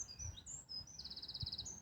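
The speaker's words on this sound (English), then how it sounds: "Can you hear the birds?" Small birds chirp and trill outdoors, faint and distant, with a quick repeated trill among scattered tweets over a quiet background.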